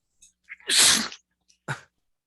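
A single loud, explosive sneeze with a short intake of breath before it, followed by a brief sniff, in a quiet room.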